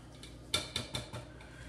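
Whisk or spoon clinks against a bowl while salad dressing with Dijon mustard is mixed for an arugula citrus salad, a few sharp taps spaced about a quarter second apart, close and fairly quiet.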